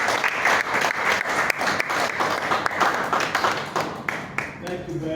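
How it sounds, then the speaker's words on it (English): An audience applauds someone speaker after her seminar talk on exporting non-oil products from Nigeria. Steady, dense clapping from many hands carries on throughout, with a faint voice murmuring near the end. "Please, can we give her a round of applause?"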